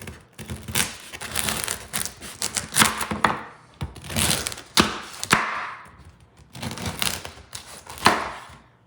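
A knife saws and crunches through hard, semi-old bread in bursts of rough crackly slicing, each stroke loud and close with short pauses between cuts.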